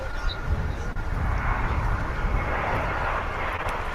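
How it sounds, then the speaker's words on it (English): An American Airlines Airbus A321 jet at Dallas Fort Worth airport, a steady broad roar of engine noise holding at even loudness throughout, with a faint voice underneath. "Here comes the American A321 from Tucson"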